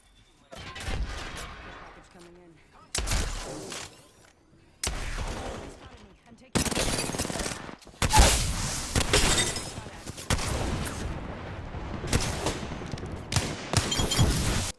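Shotgun blasts and other gunfire in a video game, a series of loud separate shots with brief pauses between them, building into denser firing in the second half.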